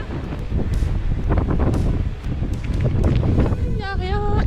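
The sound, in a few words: strong wind gusts while cycling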